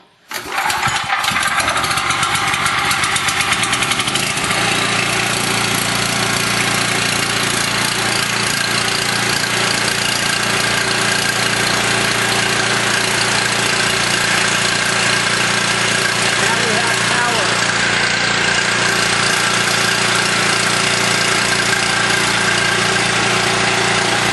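A small portable generator engine with a choke is pull-started and catches almost at once, then runs at a steady, loud idle with a constant buzzing drone.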